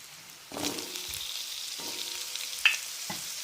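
Onions browned in oil are joined by cut sweet potatoes in a pan, starting a soft steady sizzle with a few scraping stir strokes and a light clink. The sound is close and moderate, with no one talking.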